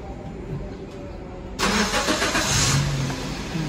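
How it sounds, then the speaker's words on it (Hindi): A car engine cranks and catches abruptly partway through, then settles into a loud, steady idle close by, with a low background rumble before it starts. "फिर गाड़ी को चालू कर लेने का।"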